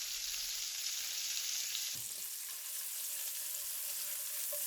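Broccoli sizzling in the pan juices left from searing a buffalo steak with rosemary, a steady bright crackle that briefly shifts as the pan is stirred, close and without talk.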